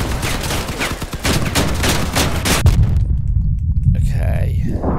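Cannon fire in the Crossout vehicle combat game, a rapid volley of loud booming shots in quick succession, then a heavy low rumble as the barrage stops.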